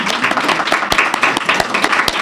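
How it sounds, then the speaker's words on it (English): An audience at a university speech competition applauds the student speakers, a dense steady burst of clapping heard alone, fairly close and loud for its short length. "can we get another round of applause"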